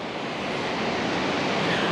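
Ocean waves at Ocean Beach, San Francisco, make a steady, broad, loud rushing wash of surf with a windy edge, continuous throughout and with no voices.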